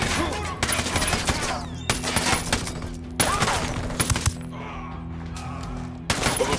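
Bursts of automatic gunfire crack out in the video game Ghost Recon Wildlands, several loud volleys separated by brief lulls, with a faint voice in the background.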